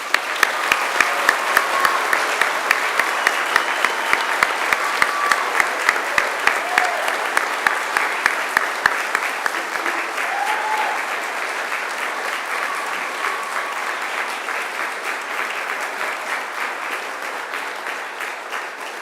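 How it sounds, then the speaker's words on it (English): A large graduation ceremony audience applauds steadily in a big hall, dense clapping at full strength from the start and slowly easing off over about twenty seconds. "Now, please join me in a mighty round of applause."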